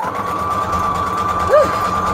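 Sewing machine running a zigzag stitch while joining junk journal signatures, a steady close motor hum holding throughout with a brief swell near the end.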